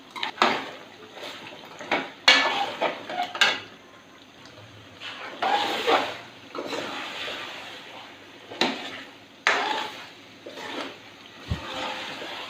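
Beef karahi is stirred and fried in a pot over low heat, giving intermittent scraping and clattering of a spoon against metal with soft sizzling between the strokes, fairly close and moderately quiet.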